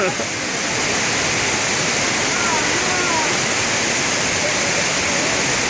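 Battle Creek Falls in Pleasant Grove, Utah, pours as a steady, loud waterfall, its broad continuous roar close by and unbroken, with no other sound standing out.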